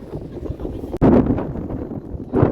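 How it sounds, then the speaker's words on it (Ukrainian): Strong, cold wind on a mountaintop in Barcelona at dusk, buffeting the microphone in loud, rumbling gusts, with a sharp click and a quieter lull before the gusts return. "Дуже вітряно, холодно, це гора."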